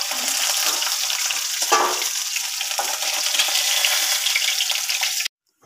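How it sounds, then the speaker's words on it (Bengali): Pieces of pangas fish fry in hot oil, a dense, close crackling sizzle with small pops that runs continuously and then stops abruptly. "মাছটা ভাজা হচ্ছে"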